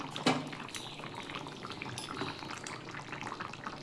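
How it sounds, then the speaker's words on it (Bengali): Vegetarian curry with boras bubbling in a pan, a steady close hiss and gurgle of simmering liquid running throughout with one brief sharper splash near the start, no talk. "একটু ফুটুক"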